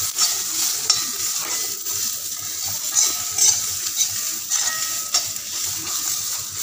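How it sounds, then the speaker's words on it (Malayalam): Dried red chillies frying in hot oil for a ridge gourd peel chutney give a steady, close, even sizzle and hiss throughout, with no talking. "ഉണക്കമുളക് വേണമെങ്കിൽ നമുക്ക് ആദ്യം തന്നെ എണ്ണയിൽ ഫ്രൈ ചെയ്തെടുക്കാവുന്നതാണ്"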